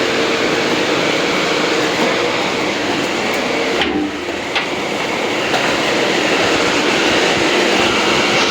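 A Tiruvannamalai to Villupuram MEMU train runs loudly nearby with a continuous roar of wheels and rails, a brief dip mid-way, and no talking.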